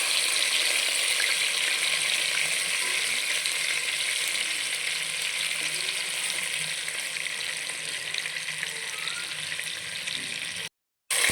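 Fish pieces frying in hot oil for fish biryani, a steady dense sizzle close by that continues throughout, briefly cutting out near the end.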